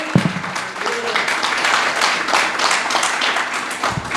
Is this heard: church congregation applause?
yes